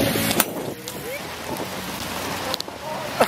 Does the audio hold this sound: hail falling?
yes